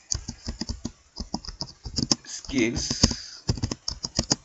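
Computer keyboard keys typed in Microsoft Word during a computer skills class, giving quick, irregular bursts of close clicks under and between a person's speech.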